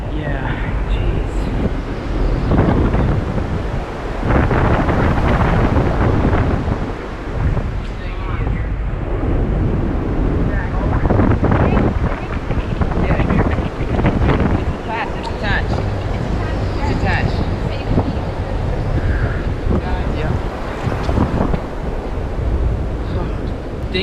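Force 10 storm winds roar across a boat at anchor, with heavy gusting wind buffeting the microphone and crashing water, loud and continuous for the whole stretch.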